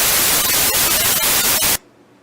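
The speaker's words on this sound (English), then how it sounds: "as soon as I start this program, we're going to get a random noise sound" Random white noise from a synthesizer oscillator in a home-coded sound program: a loud, steady broadband hiss that holds for under two seconds, then cuts off abruptly into near silence.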